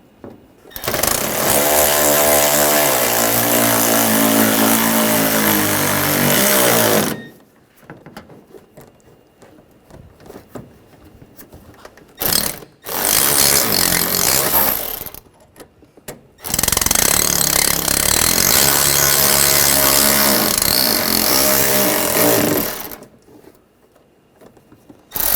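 A power tool drives bolts into a 2013-2019 Ford Escape front bumper cover, loud close buzzing runs of several seconds each, separated by short gaps and brief bursts.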